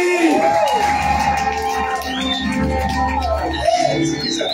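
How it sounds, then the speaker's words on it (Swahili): A church congregation cheers and shouts loudly after a vow at a wedding. Voices rise and fall in a dense crowd roar, with whoops and singing-like calls throughout and no distinct clapping. "Makofi."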